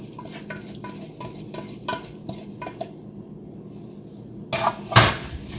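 A utensil stirs rice in a pot in a home kitchen, a run of quick regular scraping and clinking strokes, then a pause before louder knocks against the pot near the end.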